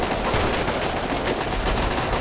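Sustained automatic gunfire from the Fallout 3 Operation Anchorage add-on, a dense, loud, continuous rattle of rapid shots with no breaks over the whole stretch.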